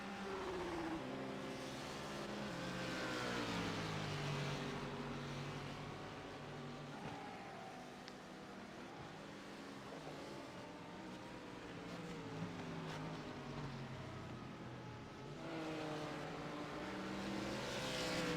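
Race cars lapping Sebring in a racing video game, with several engines droning and rising in pitch as they accelerate and shift, layered and continuous, the loudest passes swelling near the start and end.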